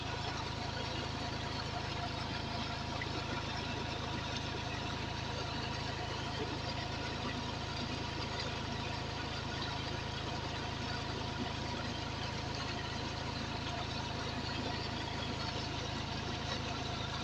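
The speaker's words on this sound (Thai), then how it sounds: "การใช้รถไถสูบน้ำนะ" A farm tractor engine idles steadily while driving a water pump, a constant low rumble with a droning hum that holds unbroken and fairly loud throughout, with no pauses or changes in pace.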